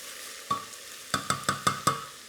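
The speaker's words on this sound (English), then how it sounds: "what you want to do is sweat your onions down" Onions sweating in a pan for Japanese curry, a low constant sizzle broken by six clattering knocks of a spoon stirring against the pan, close by with no talking.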